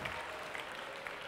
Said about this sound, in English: I also wanted to ask for a round of applause for my birthday